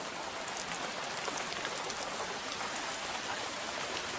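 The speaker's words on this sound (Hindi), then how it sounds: "ये हालत देख लीजिए कितनी बारिश है, भयंकर बारिश।" Heavy rain pours down on the Annapurna Base Camp trek between Machhapuchhre Base Camp and Chhomrong, a dense, steady hiss of drops on surfaces with no pauses.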